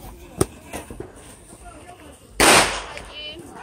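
Firecrackers go off at an outdoor New Year celebration, with a few sharp pops early on and then one loud crackling burst. People talk throughout.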